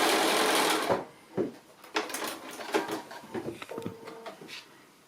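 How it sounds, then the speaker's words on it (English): A sewing machine stitches a diagonal line across quilt fabric in short, quick bursts of rapid mechanical whirring, separated by pauses with faint handling noises, fairly close and quiet. "I'm just sewing that diagonal line, and then I'm coming back, and you can chain piece these through."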